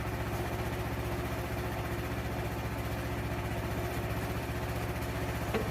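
A Frontier OS27 sawmill's hydraulic log turner runs with a steady low engine drone, constant and fairly close with no breaks.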